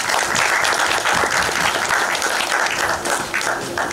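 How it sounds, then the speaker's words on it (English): An audience at a movie trailer launch event in India bursts into loud, sustained applause, a thick wall of clapping with a crowd murmur underneath that continues at full strength throughout. "Ladies and gentlemen, big round of applause, please."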